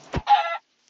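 A single short chicken cluck from the Minecraft video game sounds close and clear, followed by silence.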